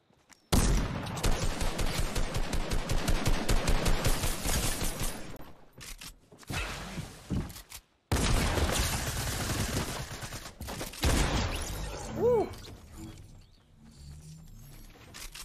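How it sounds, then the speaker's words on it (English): Gunfire crackles through a Fortnite match during a Borderlands crossover event, with dense rapid volleys and bursts of automatic fire that stop and start across the scene, loud and close, with no voices over it. "People are still shooting over here."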